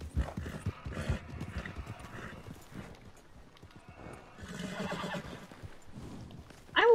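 Horse hooves clip-clop at a gallop with a whinnying neigh in Red Dead Redemption 2, the hoofbeats and a sharp whinny at the end heard among chatter and game noise, loud and close.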